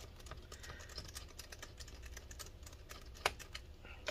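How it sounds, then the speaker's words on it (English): A screwdriver backs screws out of the bottom cover of a Lenovo ThinkPad P50 laptop, giving a close, quiet run of small irregular clicks and scratchy ticks with one sharper tap near the end and no talking. "we're going to remove the screws holding this cover in place."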